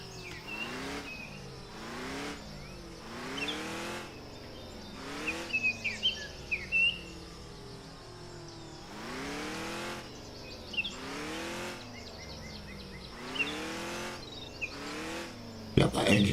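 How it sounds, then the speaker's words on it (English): Repeated engine passes roar by and fade, each rising and falling in pitch like cars racing past, with birds chirping in between. "that engine definitely sounds like a racing car"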